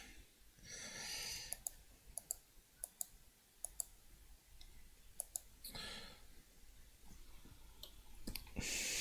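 A computer mouse clicks sharply again and again at irregular intervals, the clicks sitting over soft breathy noise and a few louder rustling bursts, with no talking.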